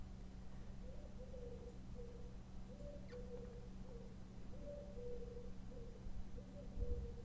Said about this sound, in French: j'entends un oiseau en fond.